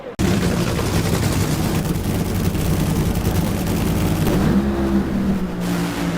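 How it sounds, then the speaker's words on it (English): An NHRA drag racing car hits the wall in the right lane after a run, a loud sustained engine roar with crowd and track noise, heavy and continuous before tailing into a lower rumble. "Dave Richards whacks the wall at 100 feet in the right lane."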